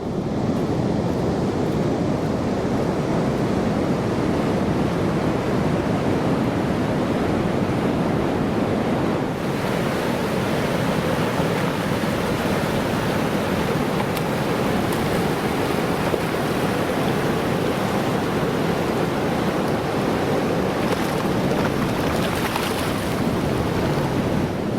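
Surf crashes steadily on a west coast beach, a loud, unbroken roar of breaking waves mixed with wind buffeting the microphone, with no voices.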